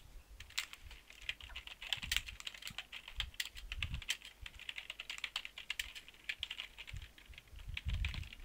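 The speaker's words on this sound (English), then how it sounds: "That's a nice typing sound for you." Steady typing on a computer keyboard, close and fairly quiet, with dense irregular key clicks and occasional heavier thumps, alone with no talking.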